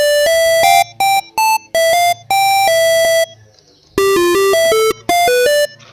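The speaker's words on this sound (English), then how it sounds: "You have like a chiptune sound if you like." A chiptune-style synth from FL Studio's 3x OSC plays a bright, square-edged melody of short staccato notes and held tones with sharp cutoffs and brief gaps, loud and unaccompanied.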